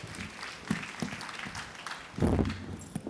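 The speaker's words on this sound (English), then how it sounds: "Guys, a big round of applause for our speaker." Conference keynote audience clapping for a speaker: sparse, scattered claps with a brief louder burst, fairly faint and thin rather than a full ovation.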